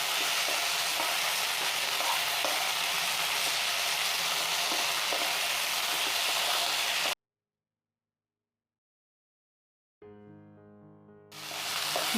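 Okra (lady finger) frying in a covered pan, a steady hiss that runs for about seven seconds, then drops to silence before a tonal sound and renewed sizzle return.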